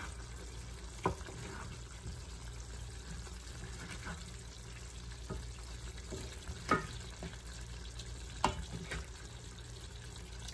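Chicken pieces frying in a pan for Hungarian paprikash, a soft steady sizzle with a few sharp clinks and knocks as pieces are turned over, faint and close.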